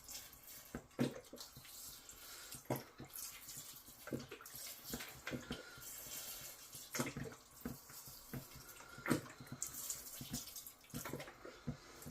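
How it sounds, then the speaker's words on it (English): Cider vinegar poured into pumpkin chutney in a kitchen pot, a splashing, trickling liquid stream with scattered clinks and bumps, fairly faint and close, with no talk. "I'll pour in 350 ml of cider vinegar."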